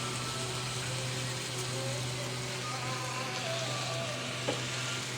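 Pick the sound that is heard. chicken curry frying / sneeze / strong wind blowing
chicken curry frying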